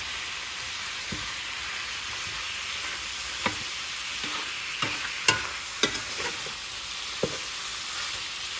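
Steak and rice sizzle steadily in a pan, a constant hiss overlaid with occasional soft scrapes and taps as the mixture is stirred.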